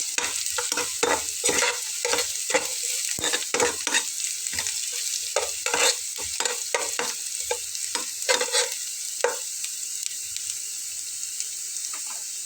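Spices tempering in hot oil over medium heat for a Bengali breakfast dish: a busy sizzle with repeated sharp crackles and stirring scrapes, steady and close throughout, with no talking.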